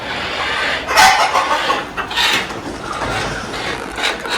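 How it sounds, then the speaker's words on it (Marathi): Three hens on a backyard poultry setup cluck close by, a loud burst of clucking followed by several quieter calls and rustling, with no talk. "ही बघा 3 कोंबड्या."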